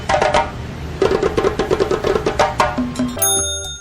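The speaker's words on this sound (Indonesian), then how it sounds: "Tuma adalah alat musik tradisional sejenis gendang panjang khas suku Dayak di Kalimantan Barat" A tuma, the long Dayak hand drum of West Kalimantan with a young goat or deer skin head, beats a quick run of strikes alone, ending on a brief bright tone.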